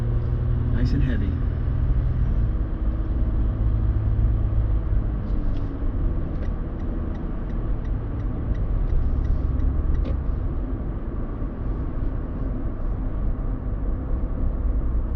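A brand new, large vehicle's engine rumbles steadily as it accelerates on the road, a continuous low drone heard from inside the cabin, with a few faint clicks and voices talking over it.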